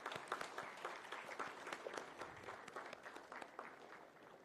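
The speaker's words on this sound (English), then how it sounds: "Please welcome her with a huge round of applause." An audience at a World Drug Day event applauds a painting competition prize winner: a continuous, even patter of clapping from a crowd, heard quietly and at some distance.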